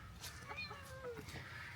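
Chickens clucking in a backyard, several soft irregular calls and a brief crow-like note over a steady low background rumble, with no talk.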